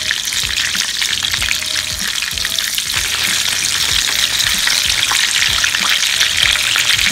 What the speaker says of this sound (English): after it cooks on the fat side, we're going to flip them over on the other side and then baste